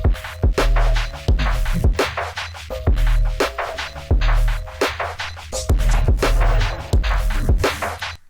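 Synthesized shaker made in Phase Plant sits inside a full loop with punchy kicks and a repeating melodic line, its bright, rapid hissy pulses ticking steadily through the dense, loud mix.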